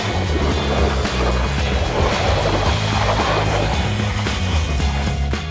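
A power washer sprays water onto a John Deere Ultimate250 kernel processor, making a loud, continuous rushing spray over a low mechanical drone that stays steady from start to finish, with no voices.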